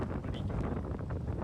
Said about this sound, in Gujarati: વરસાદ ચાલુ છે અને પવન પણ ખૂબ વધારે છે